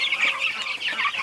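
Homestead chickens cluck close by in a quick run of soft, nasal calls, with brief gaps between the clucks and no people talking.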